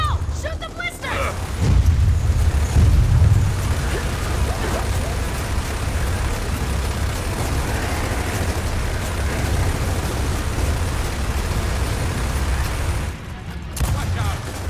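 Gunfire and explosions from the video game Gears of War 4 roar almost without pause, dense booms and bursts at full volume, with voices shouting over the battle.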